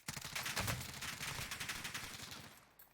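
Rapid, sustained automatic gunfire from a Groza rifle in Warzone, a dense rattling burst lasting about two and a half seconds, loud and close, with no speech.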